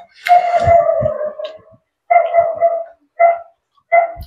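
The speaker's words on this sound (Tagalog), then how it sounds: "Ingay niya aso ko." A dog barks close and loud in a rural Filipino home setting, one long yelping bark followed by three shorter barks spaced about a second apart.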